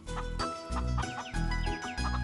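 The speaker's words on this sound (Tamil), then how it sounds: "கோழிக்கு தீவனம் போட்டுட்டு இருக்கேன்." Chickens cluck repeatedly while being fed, giving short, close, rhythmic bursts of clucking with small gaps between them and no talking.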